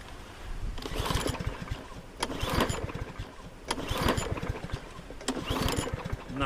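A lawnmower engine is pull-started again and again without firing, each yank producing a rapid chugging rattle of compression strokes, about four pulls in a row.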